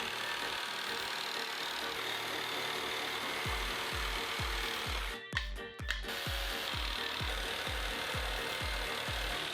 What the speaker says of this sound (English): I'll use a jigsaw to make the roughest cuts first.